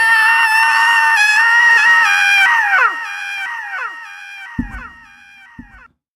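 A human voice imitates a long, high-pitched scream processed with an echo effect, wavering and sustained before trailing off in repeating echoes, with a couple of soft thumps as it fades.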